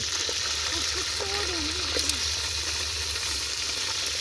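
Fish fries in hot oil with a continuous loud, hissing sizzle that stays steady from start to finish, while a faint voice murmurs underneath.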